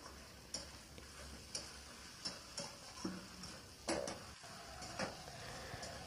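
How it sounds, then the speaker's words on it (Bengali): A spice paste with ground cumin and coriander fries in a pan, a soft sizzle under scattered spoon taps and scraping stirs, fairly quiet and close, with no one talking. "মশলাটাকে আমি একটু কষিয়ে নিচ্ছি"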